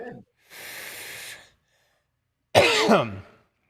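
A breathy exhale, then after a pause a loud, rough throat-clearing cough close to the microphone, with no speech.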